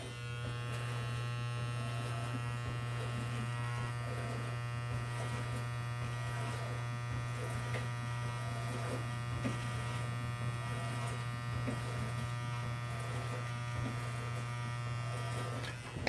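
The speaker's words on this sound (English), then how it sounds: "Every time you swipe or hear the clipper talk to you" Electric hair clippers cutting a hairline, giving off a constant close-up buzzing drone with a strong low hum that barely changes for the whole stretch, with only slight shifts as the blades move through hair.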